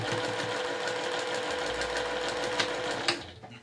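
A sewing machine stitches a fabric drawstring bag, its rapid needle whirring steady and close for about three seconds before stopping abruptly.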